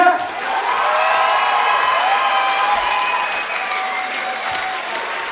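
Crowd at an MMA cage fight in Wyoming cheers and applauds steadily, a dense roar of clapping and whoops sustained throughout at close range.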